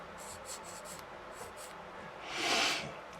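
Sanding small plastic parts of an SU-152 scale model kit, close light rasping strokes in a quick rhythm, then a longer, louder scrubbing pass near the end, with no talking.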